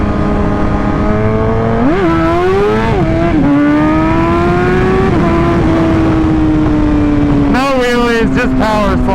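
A Yamaha R1 sport bike's engine howls through a night-time power slide, its tone rising and dipping with throttle before settling into a long sustained drone, then surging again near the end.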